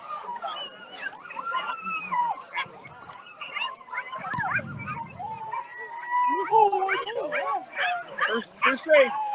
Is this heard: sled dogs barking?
yes